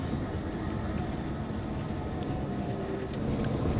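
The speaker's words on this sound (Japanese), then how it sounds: "あ、トラムがありました。" A city tram passes near a bus terminal on a snowy day, giving a steady, close rolling rumble and rail hum throughout with no talk.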